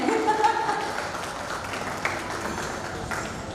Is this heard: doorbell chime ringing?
no